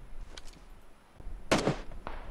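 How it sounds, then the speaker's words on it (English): Gunfire in the PUBG battle royale game: a few sharp cracks, with one loud burst near the middle and a fainter shot after it, set against quiet in-game ambience. "Gunshot."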